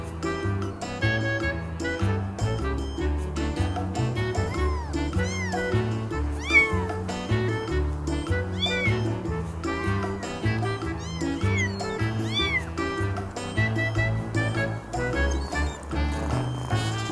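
Several cats meow over and over for a long stretch, their rising and falling calls coming frequently over a busy, music-like background.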